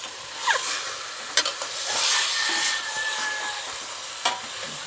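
Wild mountain mushrooms stirred in a hot pan, a steady sizzle running underneath with a few sharp utensil scrapes and clicks against the pan.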